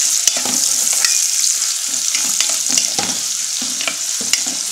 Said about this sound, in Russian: Жарим на сильном огне.